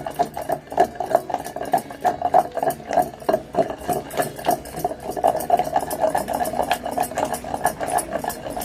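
Green chillies and tomatoes being ground by hand into chutney in a stone mortar, giving a steady, rhythmic scraping and grinding that runs continuously at close range.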